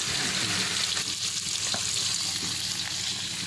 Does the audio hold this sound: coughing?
no